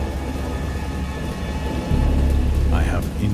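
Heavy rain pours in a thunderstorm in the VR game Dagon, with a deep rumble of thunder swelling midway under the steady downpour.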